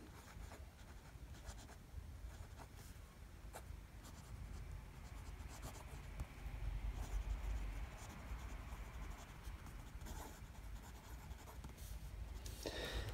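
Butterknife Creations Orion fountain pen with a steel extra fine nib scratching steadily across Rhodia paper, a soft continuous writing texture close to the mic with no voices.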